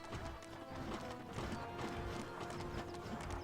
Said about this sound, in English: Those horses are blocking the way, though.